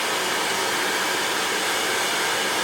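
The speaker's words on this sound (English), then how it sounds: "we're gonna try and do this with a hairdryer" A hair dryer blowing on wrinkled pants, a loud, close, unbroken broadband whoosh that holds steady throughout with no voices.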